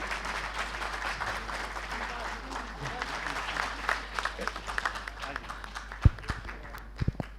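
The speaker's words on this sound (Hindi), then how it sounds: "तालियां बजाइए आयुषी के लिए।" Audience clapping for someone speaker at a Bhiwani family friendship association event, continuous applause of a modest crowd with a few sharp, close knocks near the end and faint voices mixed in.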